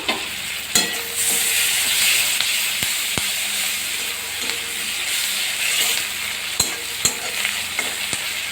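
Onions fry in a pan with a steady, bright sizzle, while a spoon scrapes and taps the pan several times at irregular intervals during stirring.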